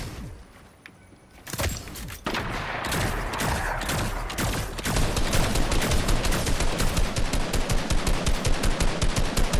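Rapid automatic weapon fire in Fortnite Battle Royale, dense bursts rattling almost continuously and growing steadier and louder in the second half, with no talk over it.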